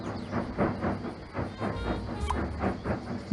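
A freight train in the Sago Mini School game chugs along in a regular rhythmic pulse of puffs and clacks, moderately loud, with a short chime near the end.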